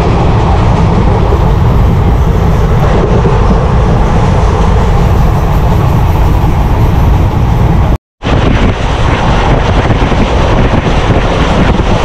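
The Chemmozhi Express 16615 passenger train from Thanjavur to Coimbatore rumbles along loudly and steadily with wind noise over the microphone; the sound cuts out for a split second, then resumes.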